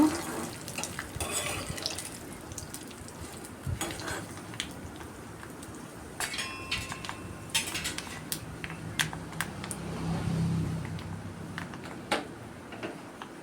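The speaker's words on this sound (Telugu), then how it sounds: "పోపు సిమ్లోనే పెట్టి వేయించాలండి" Mustard seed tempering frying in a pan on low heat for a ridge gourd peel, peanut and tomato chutney, giving a steady close crackle with scattered sharp pops and occasional clinks of a stirring spoon.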